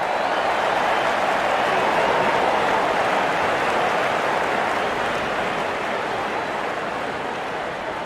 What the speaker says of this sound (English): It will be appreciated by the crowd.